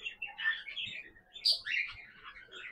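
A pet lovebird chirps in quick, bright bursts close by, sharp tweets rising and falling over a few seconds, with faint voice in the background.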